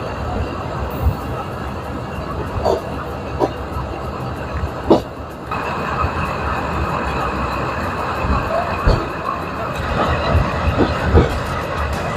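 A train rumbles along steadily with scattered clanks and knocks from the carriages, heard from on board while entering Laksam station, with a faint voice in the background.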